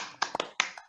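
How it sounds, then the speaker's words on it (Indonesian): Schoolchildren in a classroom clap a short rhythmic pattern for a chant called Tepuk Pancasila, a handful of crisp, close claps in quick sequence. "kita tepuk Pancasila."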